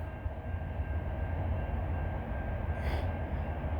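CN southbound coal train U700 on the Champaign Chicago sub, led by an AC44C6M and an ex-BNSF C44-9W rebuild, rumbles past at a distance with a steady low roar and a faint brief squeal.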